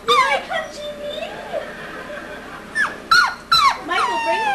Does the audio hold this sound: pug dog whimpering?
yes